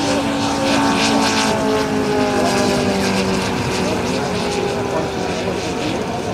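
A 150cc radio-controlled model aircraft making a low pass at the Cosford air show, its engine droning loud and steady with a strong buzzing tone; a commentator is likely talking over it.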